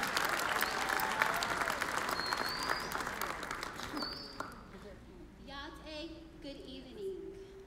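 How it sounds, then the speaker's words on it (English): An audience at the Miss Indian World pageant in Albuquerque applauds for a contestant, with heavy clapping that fades out midway, after which a voice speaks and faint background sounds continue. "let's give a round of applause to contestant number 15"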